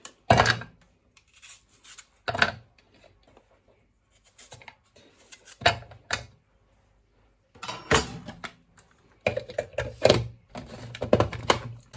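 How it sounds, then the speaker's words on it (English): A knife chopping a white onion on a cutting board, sharp bursts of rapid close taps separated by quiet pauses, with some irregular thuds, no voices. "So the same container, I'm going to chop my white onion"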